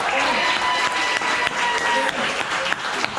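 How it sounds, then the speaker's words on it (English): Guests at a 76th birthday brunch clap in steady, dense applause that runs throughout, with voices mixed into the clapping. "So Twyla, let's give her a nice round of applause."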